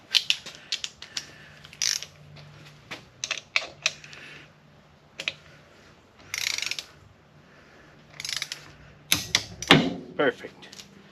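Torque wrench tightening a bolt to 28 foot-pounds on LS swap accessories, heard as quick ratcheting clicks in short bursts, then a sharper click cluster near the end, all close and moderately loud with no talking.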